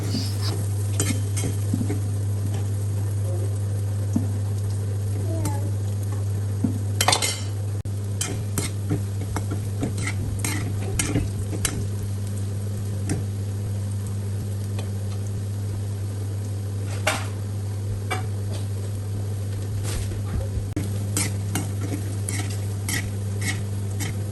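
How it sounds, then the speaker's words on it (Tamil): Soya meat chunks frying in hot oil for vegetable fried rice, stirred with a utensil: steady background sizzle with repeated clinks and scrapes of metal against the pan throughout, no talking. "நான் இப்போ எடுத்து வச்சிருந்த சோயா மீட்டை போட்டு பொரிச்சு எடுத்து கொள்ள போகிறேன்"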